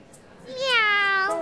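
A young girl imitates a cat with a single drawn-out, rising and falling meow, clear and close.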